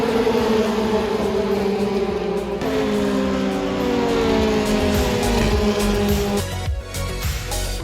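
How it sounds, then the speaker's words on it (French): Formule Renault single-seater race cars circle the Le Mans circuit, their engines whining and droning steadily at a distance, with pitch shifting as cars pass, over a constant trackside background. "Là on va suivre la première course de Formule Renault."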